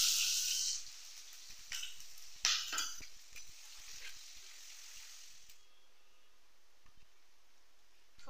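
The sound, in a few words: black cumin and chopped onion frying in hot mustard oil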